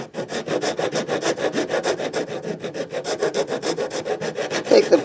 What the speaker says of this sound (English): Take the file and just kind of clean this edge up.